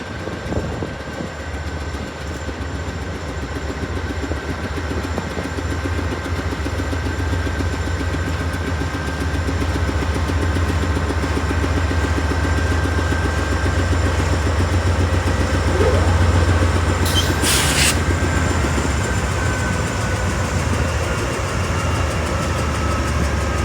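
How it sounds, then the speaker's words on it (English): Diesel train locomotive idling at a standstill while waiting for a signal in East Ohio, a steady low rumbling drone held for over twenty seconds with a faint high whine above it, fairly close and without voices. "This train would end up stopping right in front of us to wait for a signal"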